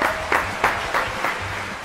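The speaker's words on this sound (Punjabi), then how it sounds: "ਤਾਲੀਆਂ ਦੀ ਆਵਾਜ਼ ਗੂੰਜਣੀ ਚਾਹੀਦੀ।" Applause from a studio audience welcoming a singer onto an interview show, a short burst of clapping with a few louder accents repeating at steady intervals, fairly close and without talk.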